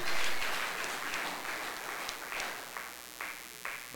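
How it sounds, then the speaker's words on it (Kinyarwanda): Applause at a church gathering comes from the congregation as a burst of clapping that gradually thins into scattered individual claps. It sounds moderately distant and fairly soft, with no speech. "Ni mwiha amashyi."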